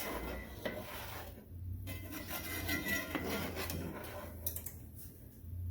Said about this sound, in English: I stir this around. Make sure that the powder does not clump.